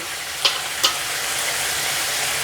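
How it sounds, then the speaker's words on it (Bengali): Spice masala with sugar stirred in a hot pan for vegetarian ghugni makes a constant crackling sizzle, broken early by two quick, sharp scrapes of a spoon, with no speech. "মশলাটাকে একটু মিশিয়ে নেওয়ার পর আমি এর মধ্যে হাফ টেবিল চামচ পরিমাণ চিনি দিয়ে দিচ্ছি"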